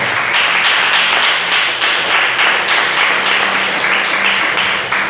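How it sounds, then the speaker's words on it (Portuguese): A church congregation claps loudly and steadily in a dense, continuous wave of applause during a worship service, filling the space without pause. "desocupe as suas mãos e aplauda Jesus bem forte."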